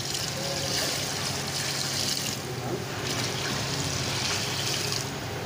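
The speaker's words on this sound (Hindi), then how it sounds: "पानी शामिल करेंगे इसमें" Water is poured steadily onto chopped cow intestine pieces being washed in a kitchen, producing a continuous splashing hiss that runs for several seconds at close range.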